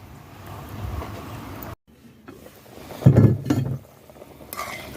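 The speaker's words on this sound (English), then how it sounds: "I'm going to stir it up" A pot of Jamaican fish with pomegranate being stirred over an outdoor fire, with a short burst of scraping and clinking around the middle against steady low background noise and a brief quiet gap before it.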